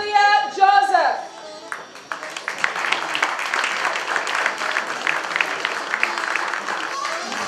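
An audience at the St. Lucia Industrial and Small Business Awards 2018 breaks into steady, sustained applause after a spoken announcement at the start, with a voice still faintly heard beneath the clapping.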